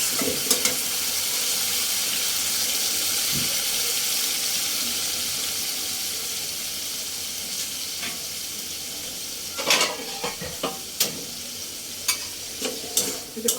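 Snakehead fish sautéing in spiced oil with tomato: a continuous moderate sizzle fills the background, with occasional scraping and clinking from stirring becoming busier toward the end.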